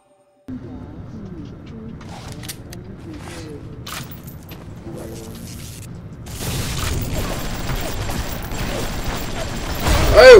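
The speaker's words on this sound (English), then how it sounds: "Oh, he throws bombs." BioShock game bombs go off in a run of sharp booms and bangs over clattering effects, building to a louder, denser roar of blasts near the end.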